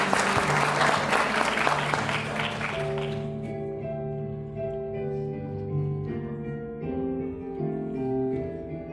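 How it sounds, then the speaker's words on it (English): A theater audience at a college musical production applauds the volunteers, a dense burst of clapping for about three seconds that cuts off as sustained music from the pit continues alone. "Let's have a round of applause for our volunteers."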